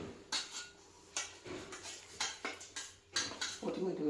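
A metal kadai (wok) with hot oil is swirled and knocked on the stove, giving a string of close, sharp metallic clanks and scrapes at irregular intervals, with a low sizzle at the end.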